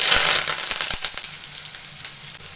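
Onion, mustard seeds and curry leaves frying in hot oil make a steady, close, crackling sizzle with scattered sharper pops, no voices over it.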